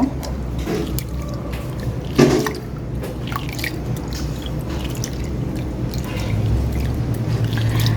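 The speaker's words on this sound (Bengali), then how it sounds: "এখন হচ্ছে এটাকে ভালো করে আমরা ধুয়ে নেব" Soaked lentils are washed by hand in water, with continuous close sloshing, squishing and dripping, one sharper splash early on, and no voices.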